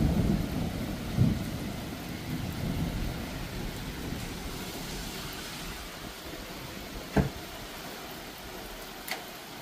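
Rain and a thunderstorm heard from inside a car: a steady patter and hiss of rain on the vehicle, with a few sharp thunder cracks and rumbles rising above it, moderately loud and without talk.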